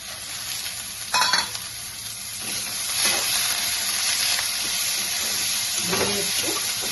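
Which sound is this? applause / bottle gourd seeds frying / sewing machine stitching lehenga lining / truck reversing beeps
bottle gourd seeds frying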